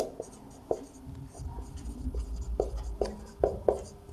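A pen scratches across paper while a math problem is worked out, with short strokes and taps in an irregular rhythm, close up, under a quiet speaking voice.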